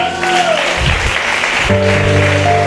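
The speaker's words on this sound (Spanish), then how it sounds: "Dele palmas al Señor" A congregation at a church gathering claps loudly for the Lord, a dense burst of hands mixed with sustained tones from music or voices, steady and close throughout.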